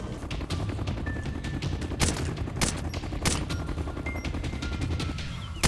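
Rapid gunfire from the game Arma 2 DayZ: dense bursts of shots crackling over a constant rumble, with a few louder, sharper reports standing out, close and loud, with no talk.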